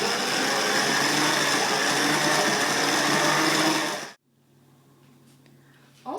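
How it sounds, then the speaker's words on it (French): A kitchen machine kneads homemade sandwich bread dough with a steady, loud whirring drone for about four seconds, then cuts out abruptly, leaving quiet background hum. "vous laissez votre pâte pétrir correctement"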